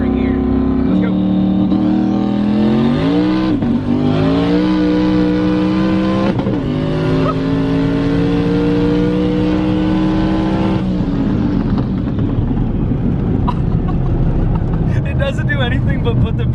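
A car accelerating hard through the gears with the tires breaking traction, a loud continuous engine roar rising in pitch with sharp shifts, close and dominant throughout, with a sudden drop in engine pitch near the end.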